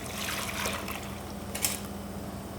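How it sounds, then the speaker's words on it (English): Hot liquid from a half and half mixture poured back into whisked eggs in a bowl, a steady, soft trickling pour lasting a few seconds over a low background hum. "add our liquid back into our bowl here"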